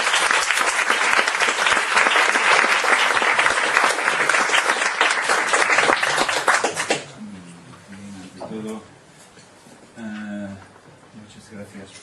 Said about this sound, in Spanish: le vamos a dar un fuerte aplauso para esta última comunicación del día